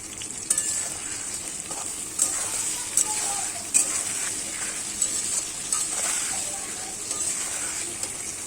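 Chicken curry with onions, salt and turmeric fries in a pan, a continuous close sizzle broken by scattered scrapes and clinks as a spoon stirs the contents, with no talking.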